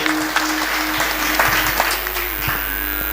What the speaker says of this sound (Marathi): एकदा सर्वांनी त्या दोघांसाठी टाळ्या वाजवा.